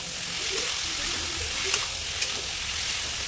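Cauliflower fried rice fries in a pan with whisked yogurt, a dense steady sizzle heard up close and moderately loud, with a couple of faint clicks from stirring and no talk.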